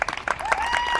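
A crowd at a sustainability forum applauds the youth as they stand facing the audience, steady clapping filling the space with a faint whistle-like tone rising through it.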